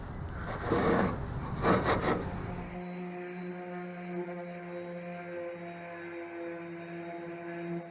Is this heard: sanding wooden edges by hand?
yes